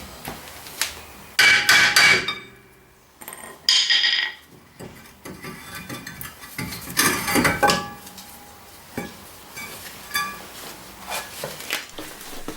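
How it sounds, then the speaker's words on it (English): A hammer taps a stubborn rear brake disc off the hub of a Skoda Superb, giving sharp metallic knocks in a few clustered bursts, close and loud, with clinks of tools and parts between them. "If it's a wee bit stubborn, give it a wee tap with the hammer and it should come free."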